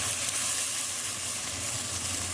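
Onion and capsicum fry in a pan with a steady, close, bright sizzle that stays even and unbroken from start to finish.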